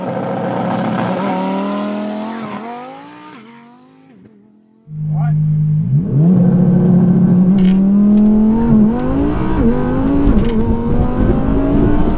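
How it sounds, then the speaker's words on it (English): A 1014-horsepower twin-turbo Audi R8 makes a solo drag-race pass, its engine idling and blipping before launching into a loud, sustained rising roar through the gears, close and dominant, with voices talking over it. "why not let the R8 run a solo pass just to see what kind of times it runs"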